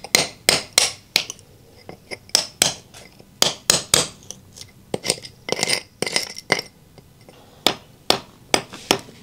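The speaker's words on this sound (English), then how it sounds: "So I'm going to be using my little chisel." A small chisel is struck to clean out a crack in a concrete driveway, sharp metallic hammer taps landing in irregular bursts of two to four, close and loud with short quiet gaps between.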